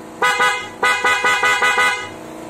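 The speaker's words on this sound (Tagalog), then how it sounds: "para sa busina, testing natin" An electric bike horn honks in a rapid series of short blasts, loud and close, with a brief pause after the first toot.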